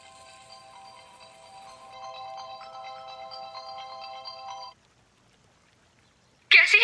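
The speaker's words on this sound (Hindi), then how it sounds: "आपा आपका फोन बज रहा है।" A mobile phone ringtone plays a steady repeating electronic melody for several seconds, then stops, leaving near silence before a brief louder sound at the end.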